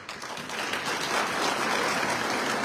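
An indoor audience at a political party workers' conference claps in a dense, steady burst of applause that stays loud for the whole moment, with no speech over it.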